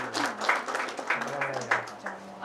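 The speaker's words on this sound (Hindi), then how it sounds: "बस जोरदार तालियों के साथ स्वागत।" Applause from a college orientation audience greeting a new batch, bursts of clapping rising and falling over a couple of seconds, mixed with voices talking through it.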